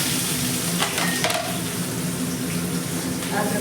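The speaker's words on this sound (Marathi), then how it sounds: "याच्यात टाकते जिरं आपला कांदा" Cumin seeds and onion hitting hot oil in a pan while cooking veg momos, a loud close steady sizzle with light stirring scrapes throughout.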